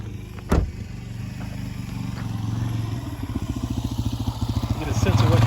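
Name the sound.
motorcycle passing on the road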